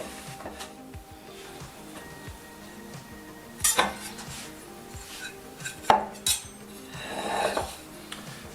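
A hot frying pan holding an apple tarte tatin is gripped with a folded towel and flipped, giving a few sharp metallic clanks and scrapes over quiet kitchen background.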